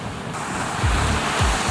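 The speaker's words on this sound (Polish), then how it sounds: "Ocean jak szumiał, tak szumi cały czas." Ocean surf rolls onto the shore on the coast near Salalah, Oman, a steady roaring wash broken by two low thumps of breaking waves, with wind buffeting the microphone.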